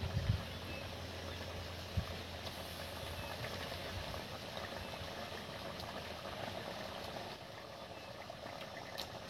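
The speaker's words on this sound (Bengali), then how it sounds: "যে মাছগুলো আমি ভেজে রেখে দিয়েছি বন্ধুরা, এই যে এই গ্রেভির মধ্যে দিয়ে দিচ্ছি" Fried fish pieces go into a pan of simmering gravy, giving a steady low bubbling hiss with a couple of soft plops near the start.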